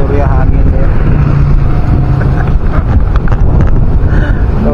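Strong wind blowing at an outdoor roadside hangout where a taxi driver waits, a constant loud roaring rush buffeting the microphone, with voices talking faintly underneath.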